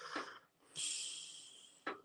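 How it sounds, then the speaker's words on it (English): A person blowing their nose: a short snort, then a longer hissing blow, then a final sharp burst, close and fairly faint. "Apologies about the blowing my nose there."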